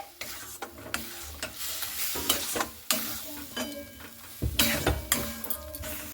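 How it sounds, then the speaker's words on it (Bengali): Raw mango frying in hot oil in a pan, stirred in bursts so that spatula scrapes and clatter rise over a crackling sizzle, close and fairly loud. "দিয়ে এরপরে 1-2 মিনিটের মতো একটু নাড়াচাড়া করে নেব এইভাবে"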